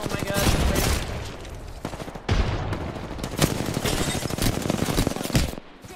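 Dense automatic gunfire in the video game Apex Legends, with rapid bursts of shots running almost without a break and a voice briefly audible among them.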